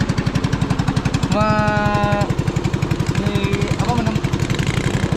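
A small motorboat engine on a river in Central Kalimantan chugs with a fast, steady putter, close and loud, with a person calling out briefly over it.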